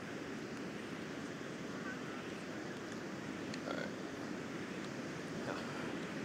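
Ocean surf near Morro Rock in Morro Bay rolls in as a steady, broad wash of waves, mixed with wind buffeting the microphone, continuous and fairly close.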